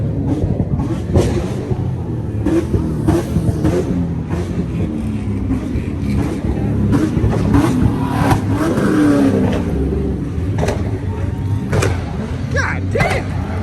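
Engines rev at a nighttime car meet, a loud continuous roar with repeated throttle blips and bursts over crowd noise, and people talk nearby throughout.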